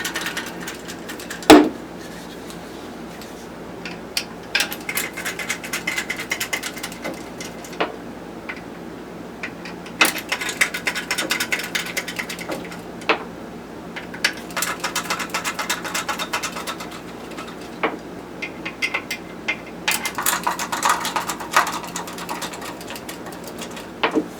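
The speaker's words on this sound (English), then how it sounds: "So what I'm doing is I'm taking the screws out of the bottom piece where the feet is at." Screws being taken out of the bottom panel of a Thermaltake Core P5 PC case, heard as scattered clicky ticks and small metallic ratcheting rattles in irregular bursts, fairly close and with no talking.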